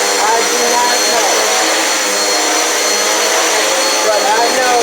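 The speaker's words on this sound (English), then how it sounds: "I'm just doing a little spot vacuuming now." A Dirt Devil Power Max XL vacuum cleaner runs continuously with a loud, steady whirring roar up close, spot vacuuming indoors.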